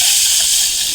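Water pours steadily into a vessel of rice and lentils for khichdi, a close, loud continuous gushing splash filling the whole moment.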